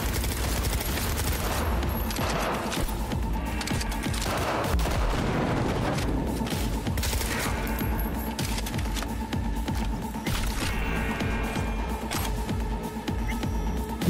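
Sustained gunfire in a Cyberpunk 2077 firefight: dense, overlapping shots and rapid bursts rattle loudly and without pause for the whole stretch, with heavier booms mixed in.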